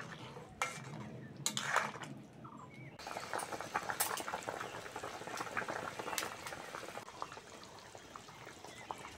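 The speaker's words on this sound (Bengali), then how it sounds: "ঝোল ভালোভাবে ফুটে গেছে" Fish curry broth with potatoes bubbling at a boil in a pot, a close, busy stream of small pops and gurgles, with a few clinks near the start and no talking.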